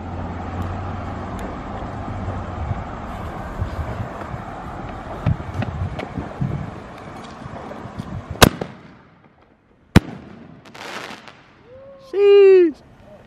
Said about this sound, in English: last firework right here